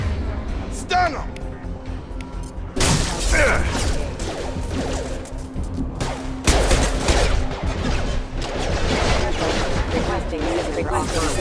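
Gunfire in the video game Mass Effect 2, loud bursts of rapid mechanical shots and crashes that come in waves, with game voices speaking over the combat.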